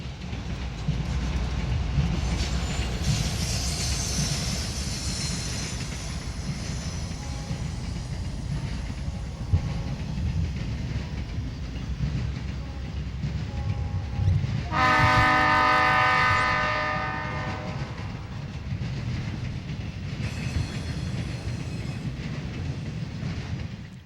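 A 7,800-foot eastbound TV-2M freight train from Chicago to Morrisville on the Chicago line rumbles past steadily with rolling wheel noise, and a loud horn sounds midway through.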